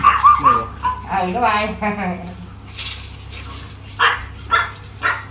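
Small adult pet chihuahuas yip and give short, high barks and whimpers at close range, in bursts at the start and again near the end, with someone talking over them.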